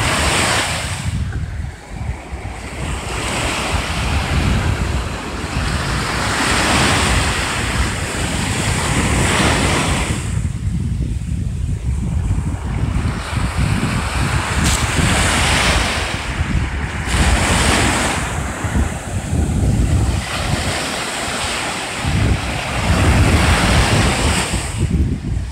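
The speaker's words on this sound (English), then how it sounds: "Tranquility of the waves." Continuous surf breaks along a beach at Vero Beach, Florida, waves swelling and receding one after another beneath a constant gusty wind.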